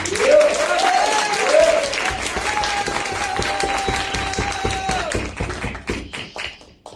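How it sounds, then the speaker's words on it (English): Audience applause at a comic book launch, a steady burst of many hands clapping close by, with a few whoops over it before it tapers off. "we just need to give a round of applause for Luke for being here."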